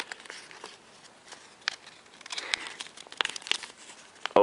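Paper folded and creased while making an origami boomerang, soft crinkling and rustling with a few sharper crackles, close and quiet, ending in a louder crinkle.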